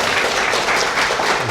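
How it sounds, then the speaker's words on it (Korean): An audience claps warmly at the close of a Q&A session, a dense, even patter of many hands sustained throughout the brief moment, with no talk over it. "또 다시 한번 박수를 또"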